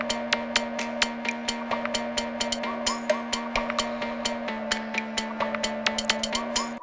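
Soloed EDM percussion samples tick and click in a busy, even rhythm over a sustained low tonal layer, close and moderately loud with no voices.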